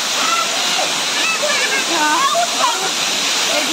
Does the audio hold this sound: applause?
no